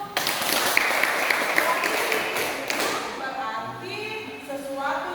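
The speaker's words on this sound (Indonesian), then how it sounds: "Ya, tepuk tangan dulu." A school class applauding during a teaching session, a burst of scattered hand claps and taps that fades after a few seconds as a speaking voice takes over.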